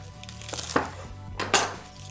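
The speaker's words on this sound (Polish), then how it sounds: "To odstawię, bo muszę tak przekroić czosnek." A kitchen knife cuts through garlic on a board, two or three firm, close knocks and clicks against the board within a couple of seconds, with faint soft handling sounds between them and no talking.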